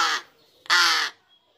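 Two loud, harsh caws from a large crow close by in Bandung, a fledgling at the end of the BC stage learning to fly, with a short gap between the calls.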